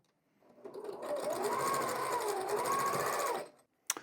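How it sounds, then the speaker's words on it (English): Sewing machine running steadily for about three seconds while stitching a row of quilt squares, a close, even whir with a slight rise and fall in speed, followed by a brief click. "I'm going to sew so that the weight goes away from my machine, weight away from my feed dogs."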